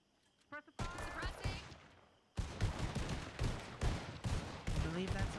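Gunfire crackles in a Red Dead roleplay video game as suppressive fire, with rapid bursts of shots in quick clusters mixed with voices and horse hooves.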